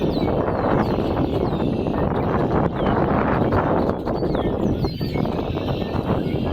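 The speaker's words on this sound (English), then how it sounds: "Wind up already at 7 a.m." Early-morning wind buffeting a camper van, a steady loud rushing roar with faint higher chirps over it, no speech.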